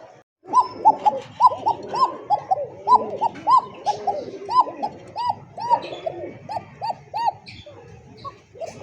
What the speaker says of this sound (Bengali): কোকার ডাকটা দেখেন